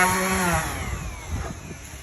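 A power sander works on marine grade plywood, a loud, close, buzzing whine that opens with a steady tone and then turns rougher and more uneven as it grinds across the surface.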